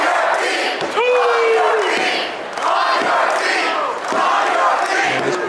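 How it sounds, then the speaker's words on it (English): A wrestling event crowd at a convention show in Atlanta roars and cheers continuously, loud and close, swelling in waves with shouts rising above the din. "And this crowd coming alive for these ladies."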